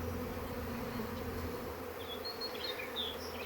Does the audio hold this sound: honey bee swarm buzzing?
yes